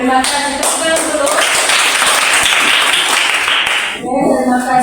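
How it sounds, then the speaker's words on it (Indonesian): Classroom children clap their hands in a loud, lively burst lasting a few seconds, with the teacher's voice speaking before and after the clapping. "Tepuk tangan dulu."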